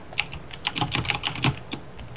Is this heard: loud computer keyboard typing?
yes